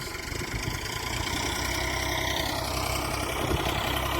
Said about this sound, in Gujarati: દાંતી ચાલુ કરી દીધી